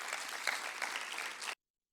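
A church congregation claps loudly and steadily in dense, continuous applause for about a second and a half, then it cuts off abruptly into silence.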